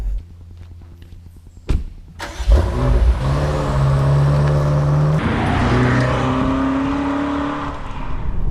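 A 2021 BMW M5 Competition with 617 horsepower setting off on a drive. A door thud and engine start are followed by a loud, steady engine drone that builds as it accelerates, heard from close by with no talk.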